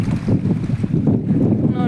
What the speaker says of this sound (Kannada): ಗಾಳಿ ಎಷ್ಟು ಜೋರು